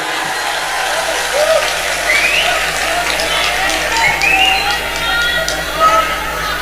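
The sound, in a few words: audience applause for Indonesia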